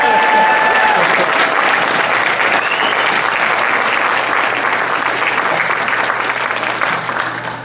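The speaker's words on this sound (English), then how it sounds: "Let's bring Claire back for another round of applause." An audience at a gala celebration gives a long, loud round of applause for a performer, dense continuous clapping that holds steady and then slowly tapers off toward the end.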